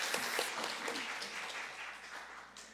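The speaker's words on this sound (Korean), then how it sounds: "박수로 환영하겠습니다" A church congregation applauds to welcome visiting guests, a pastor and his wife. The soft, fairly distant clapping from many hands stays steady for a few seconds and slowly fades.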